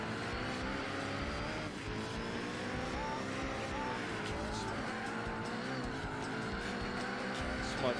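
A race car in the video game Gran Turismo 4 drives at speed with a steady, sustained engine drone and tyres squealing under strain, and the car keeps running at a constant loud level throughout with no pauses.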